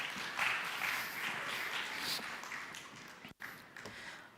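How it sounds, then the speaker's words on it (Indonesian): Congregation at a church worship service applauding, a faint, even wash of clapping that carries on for a few seconds, briefly dipping near the end. "beri tepuk tangan"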